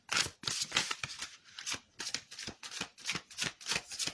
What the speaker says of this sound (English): let me do a quick shuffle and we'll pull a card